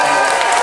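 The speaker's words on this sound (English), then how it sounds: "big round of applause for Kendra, an amazing moderator." A live audience at a Friday concert bingo event on a cruise ship gives a big round of applause, dense steady clapping with some cheering filling the room.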